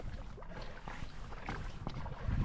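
A small fishing boat without an anchor drifting on a lake in strong wind: blustery wind buffeting the microphone with slapping water and light creaks against the hull, steady and close, no talk.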